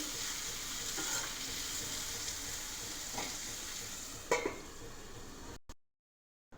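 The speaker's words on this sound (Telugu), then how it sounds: "ఒక చిన్న టమాటా వేసుకుందాం. ఓకేనా, ఇది ఒకసారి బాగా వేగాలి." Chopped tomato frying in a pan of onions for a rajma masala curry, a continuous close sizzle with a few stirring knocks, cutting off abruptly near the end with no talking.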